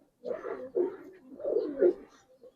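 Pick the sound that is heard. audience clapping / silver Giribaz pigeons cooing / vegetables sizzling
silver Giribaz pigeons cooing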